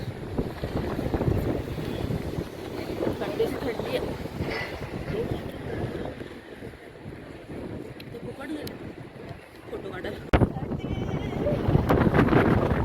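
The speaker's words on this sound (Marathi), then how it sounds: "खूपच वारा इथं." Strong mountain wind at Manali in cold, rainy and snowy February weather, roaring and buffeting the microphone steadily throughout, with people talking over it.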